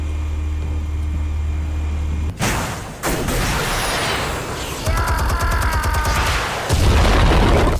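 Explosives detonating in Batman: The Telltale Series: a sharp boom followed by a second blast and rolling, crackling debris, layered with bursts of rapid impacts and a low rumble, loud and close with no talking.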